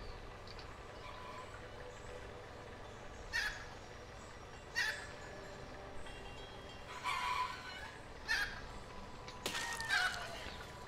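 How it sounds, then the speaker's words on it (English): Chicken clucking in the physics building game Besiege comes as several short, faint squawks spaced a second or two apart over a low, steady background hum. "Oh no, poor chicken."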